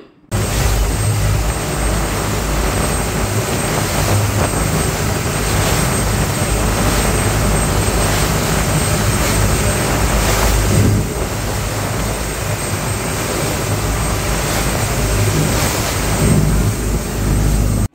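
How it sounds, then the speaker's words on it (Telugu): A speedboat runs fast across open water in the Maldives, carrying a group of passengers. A loud, steady engine roar blends with rushing wind and water spray, constant from start to finish, with no speech. "అందరం కూడా స్పీడ్ బోట్ ఎక్కిపోయాము"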